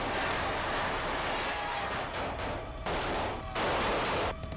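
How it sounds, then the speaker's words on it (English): A heavy exchange of gunfire in a house battle: dense, continuous bursts of rifle fire crackle loudly and overlap with almost no pause, near and harsh, with no voices heard. "Pretty heavy exchange of gunfire."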